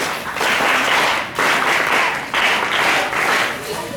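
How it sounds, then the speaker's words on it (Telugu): A crowd at a school function applauds with dense, continuous clapping that swells in three waves, fairly close and loud. "క్లాప్స్ అన్న"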